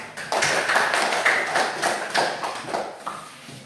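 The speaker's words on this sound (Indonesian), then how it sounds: "Kasih tepuk tangan kita semua." Classroom of students clapping together at the end of a lesson, a lively burst of many hands in uneven rhythmic waves, fairly close and loud, with no voices over it.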